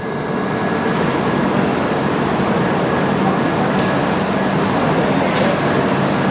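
The Ajanta Express, train 17063, a passenger train on its run via Hazur Sahib Nanded, makes a loud, steady rumble throughout, with a continuous roar and faint rattling.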